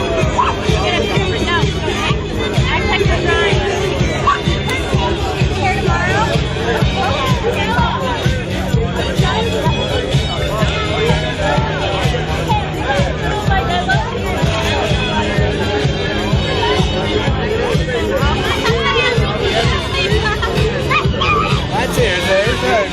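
A night protest crowd of about 150 people fills the air with a loud, continuous babble of overlapping voices and chatter, steady for the whole stretch.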